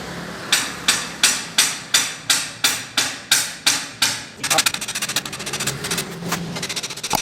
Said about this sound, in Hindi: तो ये स्टील हम हथौड़े की मदद से ठोक रहे हैं इस पाइप में।